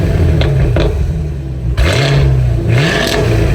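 A 2025 Cadillac CT5-V Blackwing with its supercharged 6.2-liter V8 passing and revving, loud deep engine roar rising and falling in pitch through gear changes, close by with no talking.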